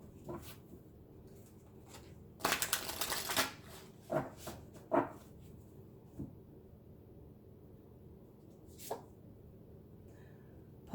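A deck of oracle cards is shuffled in one crisp, rapid burst, then single cards are pulled and set down with soft, sparse taps and rustles in a quiet room.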